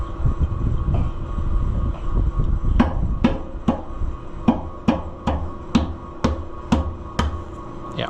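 A run of sharp, evenly spaced metallic strikes from a meat hammer during an Oliver 1655 tractor engine rebuild, about a dozen blows, starting irregular then settling into a steady rhythm over a low background rumble.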